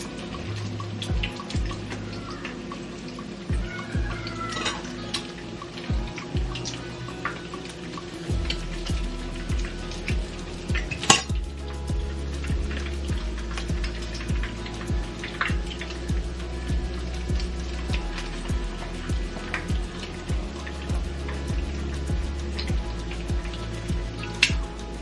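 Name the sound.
tuna patty frying in grease and oil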